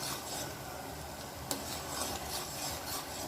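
A spoon stirring boiling sugar syrup with cardamom in a pan for gulab jamun, soft scraping and rubbing strokes over a bubbling hiss, close and steady with one sharper knock midway.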